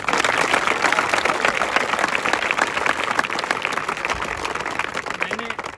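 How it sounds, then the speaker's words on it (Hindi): Loud, dense audience applause at a defence academy gathering in Indore, sustained and even for several seconds, with a voice briefly heard under the clapping. "जोरदार ताली एक बार"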